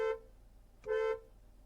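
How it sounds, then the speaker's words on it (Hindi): A Kia Seltos 1.5 GTX DCT sounds its horn, heard from outside the car: two honks, a short toot followed after a pause by a longer, loud blast, with quiet street background between. "अभी आप लोगों ने बाहर से हॉर्न की आवाज़ सुनी होगी। हॉर्न की आवाज़ काफ़ी लाउड है यहाँ पर"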